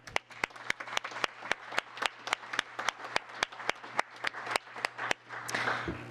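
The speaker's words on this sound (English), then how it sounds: "you've deserved a big round of applause" Applause at a town council meeting, faint and sparse: a small group claps in distinct, fairly regular individual claps, then a brief burst of denser clapping near the end.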